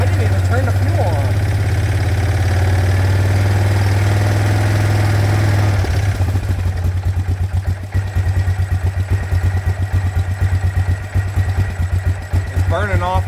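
A Yamaha Grizzly 600 ATV engine runs after carburetor work. It starts with a smooth, loud drone, then settles into a rough, rapidly pulsing idle with distinct firing beats, close by.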